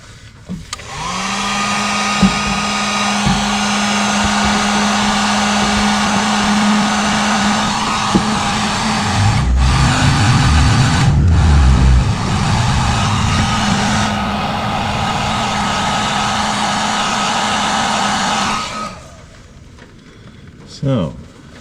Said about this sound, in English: Okay, so now heat gun.